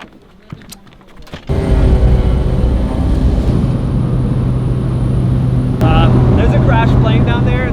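A small airplane's engine starts up after a few clicks and settles into a steady, loud, close droning roar that continues throughout, with a brief rise in pitch near the end.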